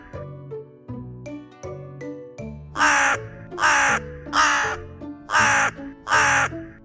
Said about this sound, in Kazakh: Қарға кар, кар дейді.